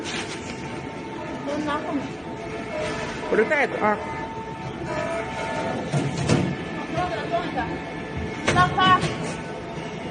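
Echoing ambience at Yanshan subway station with a train's rumble and rattling under nearby conversation, punctuated by occasional clanks and a brief high squeal.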